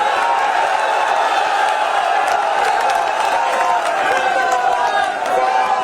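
Auditorium audience applauding the chief minister at a digital fair event in Jaipur's Birla Auditorium, a loud continuous wash of clapping and crowd noise with scattered cheers throughout.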